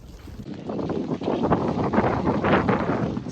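Strong wind in a snowstorm roars and buffets the microphone in steady, rushing gusts, a loud broadband blustering with no voices.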